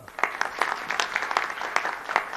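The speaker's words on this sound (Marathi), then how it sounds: "एकदा सर्वांसाठी जोरदार टाळी वाजवा." Scattered audience clapping at a live stage event in India, a thin, uneven applause with periodic louder bursts of claps rather than a full ovation, moderately distant.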